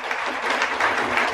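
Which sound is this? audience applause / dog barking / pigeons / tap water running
audience applause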